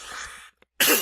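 A single short cough, fairly close, followed after a brief pause by a sharper, louder burst like a second cough.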